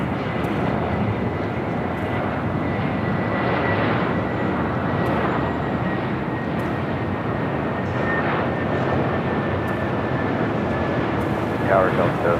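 Airliner at Los Angeles LAX airport, heard as a steady, loud engine roar holding throughout, with a radio voice talking over it.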